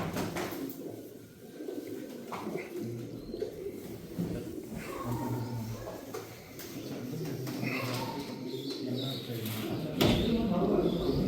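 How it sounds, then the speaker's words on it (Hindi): Pigeons coo softly in the background while someone talks continuously over them, with occasional handling or sliding-door-like knocks. "शेखों वाले पर में है कबूतर,"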